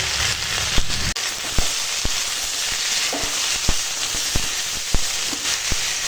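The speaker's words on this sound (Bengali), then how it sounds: "এখন একটু কষিয়ে নেব" Spices fry and sauté in a hot pan with oil, giving a steady loud sizzle and crackle, broken by sharp clicks and scrapes of stirring, close and alone without talk.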